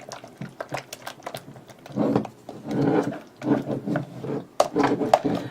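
Mayonnaise hair conditioner being mixed in a bowl, giving close, irregular scraping and sticky squelching strokes in uneven bursts, with a few sharper clicks of the utensil against the bowl.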